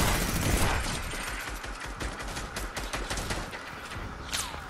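Rapid bursts of automatic gunfire crackle through a Fortnite Battle Royale match, dense overlapping shots from several weapons rattling on for several seconds at moderate distance, with no talk over them.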